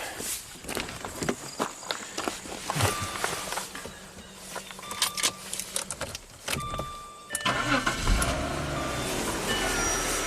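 A 1995 Jaguar Vanden Plas engine runs while warming up, with a low steady hum that grows more prominent near the end, mixed with footsteps and handling noises.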